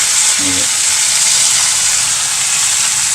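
Fish frying in hot oil in a pan gives a loud, steady, close sizzle with a hissing crackle that never lets up.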